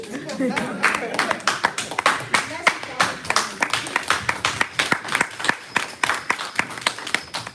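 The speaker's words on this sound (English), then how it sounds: "Please come on. Let's clap." An audience at a Toastmasters event for International Women's Day claps in sharp, fairly regular bursts that continue steadily while a voice talks over them.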